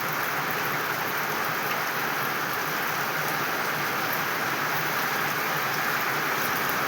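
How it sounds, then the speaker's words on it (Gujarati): Gentle rain falls steadily in a slow, even shower, a constant soft hiss of drops on surfaces without a break and with no voices. "સરસ વરસાદ પડી રહ્યો છે"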